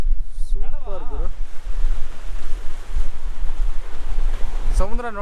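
Sea waves at Maravanthe beach roll in as a loud, continuous wash of surf with heavy wind buffeting the microphone and brief voices at the start and end.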